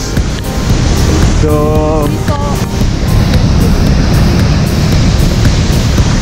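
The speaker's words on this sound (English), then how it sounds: "this is the waterfall with the most amount of water in Canada." Roaring torrent of Athabasca Falls in Jasper National Park, Canada's highest-volume waterfall, a loud continuous broadband rush filling the scene with a brief spoken word early on.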